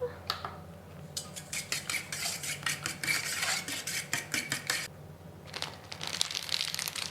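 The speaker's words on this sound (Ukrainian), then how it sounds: "Я беру або еритритол, або стеві. Перемішуємо." Erythritol or stevia sweetener being stirred into a coconut-lemon cookie mixture in a bowl, brisk scraping and clinking of a utensil in quick repeated strokes, close by, with a short pause midway.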